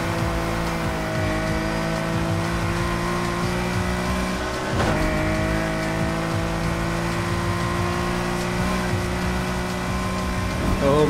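A Nissan R34 GT-R V-Spec engine in the racing game Need for Speed Heat drones steadily at high revs, loud and continuous with a brief shift or tire squeal midway.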